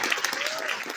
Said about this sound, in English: Audience, I'd like you to give our candidates a great round of applause.